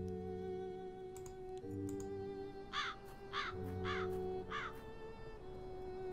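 Crows cawing in the video game Black Mirror III: four harsh caws in a fairly even rhythm over a low electronic hum, with faint clicks at the start and no talking.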